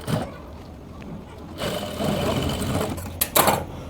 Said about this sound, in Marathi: आता मी ह्या साईडला दाब शिलाई देते जेणेकरून तो पलटी होईल, शिलाई वरतून दिसणार नाही.